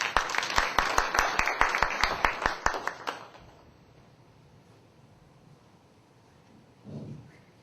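An audience at a church camp forum applauds as a pastor is introduced: a burst of close, brisk handclaps that thins out after about three seconds and leaves a quiet, faintly humming room.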